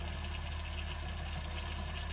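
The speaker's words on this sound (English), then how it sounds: "water's running" Water runs steadily through a Girard GSWH-2 tankless RV water heater during an E03 ECO sensor repair, a constant close rushing flow with a low steady hum beneath it, no voices.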